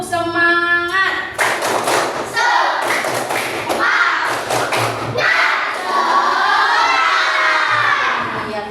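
A class of students in a school lesson performing a spirit clap chant, rhythmic group clapping and thumps mixed with loud shouted chanting from many children, energetic and close.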